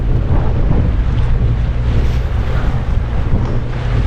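Strong east wind buffets a 24-foot bay boat out at sea in the Gulf, a loud, steady roar of wind on the microphone with water wash beneath, continuous and close throughout with no talk.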